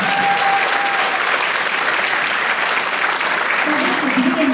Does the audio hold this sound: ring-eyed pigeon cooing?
no